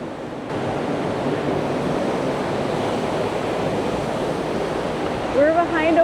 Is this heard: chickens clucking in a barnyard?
no